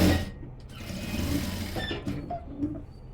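A sewing machine stitches a blouse seam with a steady mechanical whirr, close by and without talk, with a few small clicks near the end.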